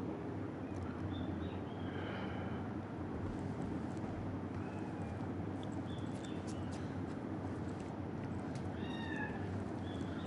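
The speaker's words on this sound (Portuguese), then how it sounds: "Vocês estiveram ouvindo uns miados aí, que tem uns gatos aqui na vizinhança, uns gatos vira-latas aqui na vizinhança" Stray cats meow faintly now and then somewhere in a residential neighborhood, brief high calls scattered over a steady low background hum.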